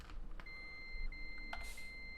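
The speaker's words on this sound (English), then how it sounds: "Give up beeping at me." A steady high electronic beep tone from the video game Farming Simulator 15 holds for a couple of seconds, faint, with soft clicks and rustles around it.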